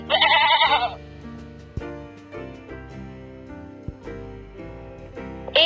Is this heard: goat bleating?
yes